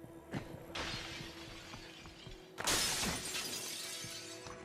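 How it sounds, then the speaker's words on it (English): Window glass smashing in the video game State of Decay 2, with a sharp shatter followed by a louder second burst of breaking glass and scattering shards, loud and close. "Everybody all smashes open the windows."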